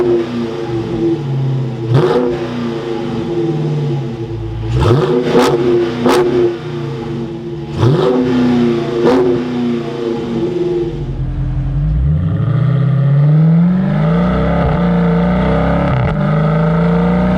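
A 2022 Dodge Challenger Shaker 392 Scat Pack fires up close by. It revs in several sharp bursts, then settles into a loud, steady, rising rumble, with no talking.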